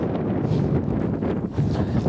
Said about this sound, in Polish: nie baliśmy się ani deszczu, ani tego wiatru ogromnego